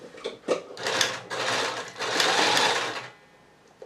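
Sewing machine stitching down the pleats of a box pleat skirt, loud and close, running in several short bursts and then one longer steady run before stopping, with no talk.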